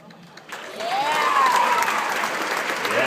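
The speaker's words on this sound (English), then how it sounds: "thank you for that applause" A graduation audience bursts into applause after a speech, rising quickly from quiet into loud, sustained clapping, with a whistle gliding through the crowd noise.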